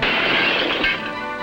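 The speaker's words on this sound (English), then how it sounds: "As a stone smashed the window" A stone smashes through a house window, a loud, brief crash of breaking glass that fills the moment and then trails off, with no voices.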